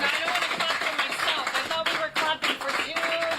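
An event audience clapping for the speakers at the close of a panel discussion, a steady crowd round of applause close by, with a voice talking over it briefly.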